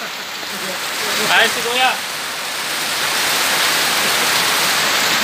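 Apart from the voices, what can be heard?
heavy rain falling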